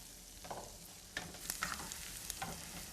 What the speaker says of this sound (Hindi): तो जैसे ये बटर गरम हो गया है, आइए उसमें गार्लिक सौते करते हैं।